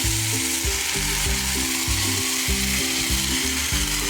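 Ground masala paste hits a Malvani-style tempering of hot oil, garlic and a pinch of asafoetida for raw mango curry, giving a steady loud sizzle and hiss throughout, with a tonal melody running beneath it.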